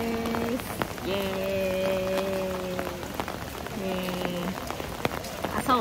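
Steady rain patters on umbrellas at a Shinto shrine in Aichi, a dense close hiss of drops throughout, with people talking over it.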